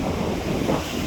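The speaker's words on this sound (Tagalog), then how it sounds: "Malalakas ang alon." Strong waves wash against a rocky shore, a brief, dense roar of surf mixed with wind buffeting the microphone.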